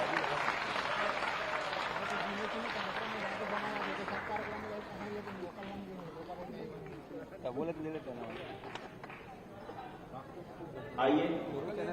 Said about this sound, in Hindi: बहुत बहुत तालियों द्वारा अभिनंदन सभी महानुभावों का